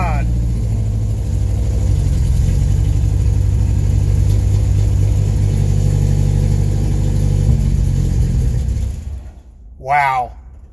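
A 1993 Ford Ranger engine turning over on its first start and settling into a steady, loud idle with a low rumble for about nine seconds, then cutting off; a voice speaks briefly near the end.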